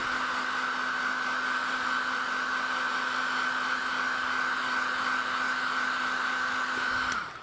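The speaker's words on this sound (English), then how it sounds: "Not ideal to use a hairdryer with masking fluid" A hair dryer blows steadily over wet watercolour and masking fluid, with a constant whirring hum and rushing air, close and loud, then switches off at the very end.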